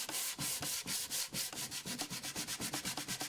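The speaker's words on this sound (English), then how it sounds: "Always sand with the grain of the wood." Rhythmic scratchy rubbing of a folded sheet of sandpaper held flat in the hand on wood, back-and-forth strokes with the grain speeding up into a quick steady pace, close and clear.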